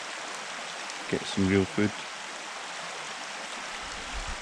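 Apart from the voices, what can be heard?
river flowing near a campsite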